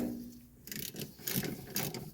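Ratchet wrench snugging bolts on the spring perch of a 1982 Mercedes 300D suspension, a few close, quick bursts of clicking pawl with short pauses between.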